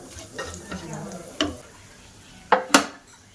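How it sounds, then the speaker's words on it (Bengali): Whole black pepper, dried chilli, cumin, cloves and cardamom go into a little white cooking oil, giving a faint, low sizzle broken by a few sharp stirring clinks and scrapes of a utensil against the pan. "গোলমরিচ, শুকনো লঙ্কা আর জিরা আর লবঙ্গ, এলাচ এগুলো দিয়ে দেবো, গোটা মশলা।"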